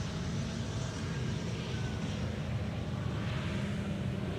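An airliner rolling out on the Polderbaan at Schiphol with thrust reversers deployed gives a steady, dense roar with strong low rumble and broad hiss, sustained at an even level throughout with no voices.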